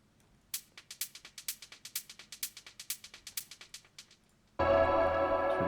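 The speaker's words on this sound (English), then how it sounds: "I just used claps on the 2 and 4 of the beats." An electronic dance track drum loop: sharp claps on the 2 and 4 with a quarter-note hi-hat smeared by delay repeats, crisp, rhythmic and dry, cut off near the end by a loud, dense synth lead sample.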